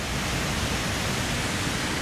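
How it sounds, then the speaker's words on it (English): Air Force Waterfalls in the Lake District pours down in the rain, a dense, unbroken roar of rushing water filling the air at close range for a couple of seconds before cutting off abruptly. "I'm at Air Force Waterfalls. It's absolutely amazing. It's raining, I don't care. It's noisy"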